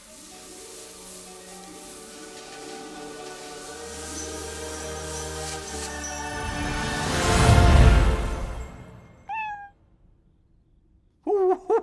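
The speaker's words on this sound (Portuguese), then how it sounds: "Um gatinho." A kitten in an animated short gives a few short, high meows near the end, right after a swelling whoosh of music and effects fades out.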